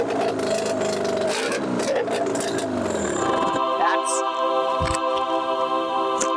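A 1990 Yamaha Mariner CV30 30hp long-shaft outboard engine running after choke and hand-throttled starting, a close, loud buzzing drone that shifts pitch and then settles into a steadier, even tone.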